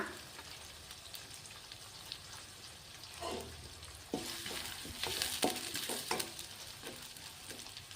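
Red chillies frying in hot oil while capsicum rice is cooked, a soft steady sizzle that grows louder partway through, with scattered sharp crackles and pops.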